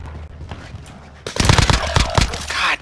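Rapid bursts of automatic gunfire rattle in a video game battle, starting sparse and then erupting into loud, dense volleys.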